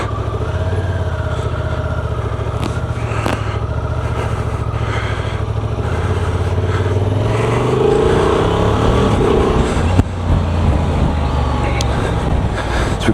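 A car's engine idles steadily, then pulls away as it is driven off along the seafront at West Bay in Dorset, with the low engine rumble building gradually under some traffic and outdoor noise.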